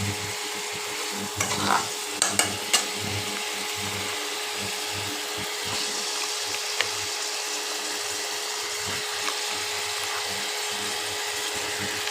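Mixed vegetables stir-fried in a pan with a little chili paste, a steady close sizzle throughout with a few light scraping clicks of stirring early on, no talk.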